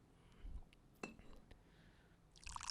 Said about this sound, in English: Pouring himself a glass of wine like always.